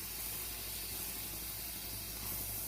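Milk-dipped bread sizzles on a hot tawa, a steady close hiss that holds evenly throughout and swells slightly near the end.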